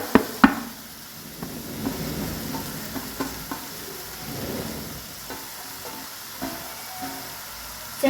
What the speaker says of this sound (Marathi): आता आपण शेंगा टाकून घेऊया